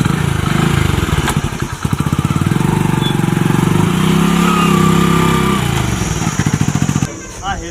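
Motorcycle engine running close by in a village, a loud steady chugging idle with rhythmic pulsing that rises and eases before cutting off near the end, with voices talking over it.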